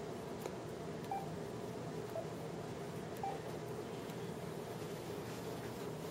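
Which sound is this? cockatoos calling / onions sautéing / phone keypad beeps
phone keypad beeps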